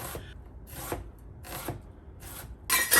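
Sweet onions diced into small pieces with a knife on a board, four crisp broadband cutting strokes spaced roughly evenly, close and clear, with a louder final stroke.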